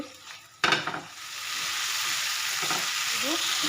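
Spices with salt, turmeric and chili powder stir-fried in a pan for a coconut, potato and pointed gourd curry, a loud clatter of stirring at first, then a steady close sizzle with occasional scraping.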